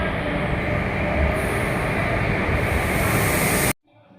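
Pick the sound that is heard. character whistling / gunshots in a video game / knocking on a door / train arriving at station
train arriving at station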